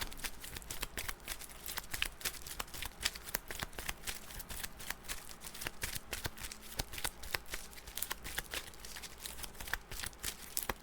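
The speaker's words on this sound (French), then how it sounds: "on rebrasse le deck du vilain pour une deuxième carte de boost" Playing cards shuffled continuously during a Marvel Champions game, a steady crisp riffling patter of rapid flicks and snaps running close and clear for about eleven seconds with no talking.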